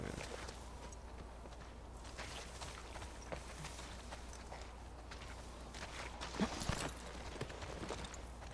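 Horse hooves clip-clop at a steady walking rhythm in The Last of Us Part 2, moderately close within a busy, continuous game ambience, with a slightly louder cluster of hoofbeats near the end.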